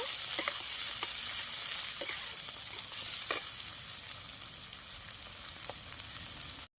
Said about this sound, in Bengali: ভালোভাবে নাড়িয়ে নেব পেঁয়াজটা লাল লাল করে ভেজে নেব